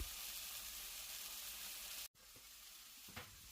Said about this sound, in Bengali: এবার এতে একটা টমেটো দিয়ে হালকা ভাজা করে নেব।